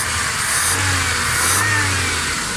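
A Honda 95 model Suzuki Cultus car engine, with a pickup and missing fault, runs steadily up close and revs up twice in smooth swells, with no one talking.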